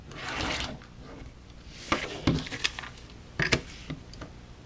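Quilt paper piecing trimmed along a ruler: a rough rubbing slide at first, then several sharp close cutting and scraping strokes in quick succession, with no talk.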